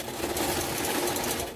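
Rapid, even chatter of a sewing machine stitching leather for a small wristlet bag, a quiet continuous mechanical whir close by.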